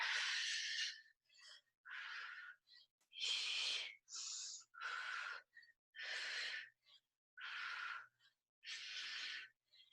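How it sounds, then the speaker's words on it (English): Forceful exercise breathing during a boot camp workout, about nine loud, close, rasping breaths in a steady rhythm with brief pauses between each one. "Deep breathing."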